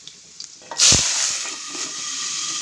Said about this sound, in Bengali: সঙ্গে আলু আর কাঁঠাল গুটিগুলো ঢেলে দেবো।